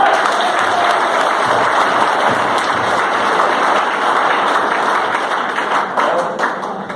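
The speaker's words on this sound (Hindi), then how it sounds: "दिल खोल के ताली बजा दीजिए।" A seminar audience at a business meeting in Dausa breaks into sustained, dense applause, loud and close, holding steady for several seconds before tapering slightly at the end.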